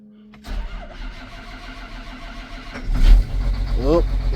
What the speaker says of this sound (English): That took a few more times to turn over than it usually does.